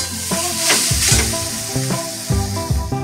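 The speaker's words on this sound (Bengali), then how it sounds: "কড়াইতে নারকেল দিয়ে দিলাম" Grated coconut sizzles in a hot wok (kadai) for a village-style kuli pithe filling, a loud, continuous crackle broken by rhythmic scraping strokes of a spatula.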